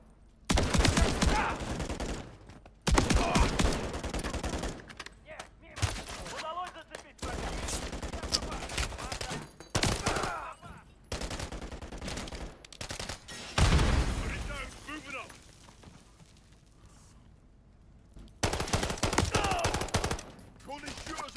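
Repeated bursts of pistol gunfire in the shooter game Call of Duty: Modern Warfare III crack out in clusters, loud and close, separated by brief quieter gaps.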